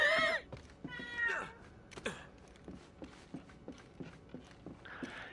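A cat meows several times in the video game Uncharted: Drake's Fortune, with plaintive rising cries up front, followed by a series of regular soft thuds and a faint final mew.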